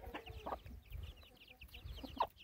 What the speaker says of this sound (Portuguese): Essa galinha chocou com 12 ovos, tirou 11 pintinhos.